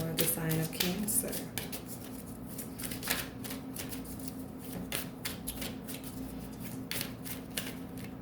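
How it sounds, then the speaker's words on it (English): Tarot cards being shuffled during a reading, with repeated crisp riffling and flicking bursts close up, interspersed with soft handling noises. "we shuffle a little bit more"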